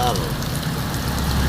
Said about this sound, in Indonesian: Oh, cuaca terang, tapi hujannya besar.